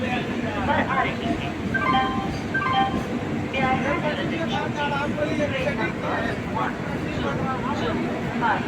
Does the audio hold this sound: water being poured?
no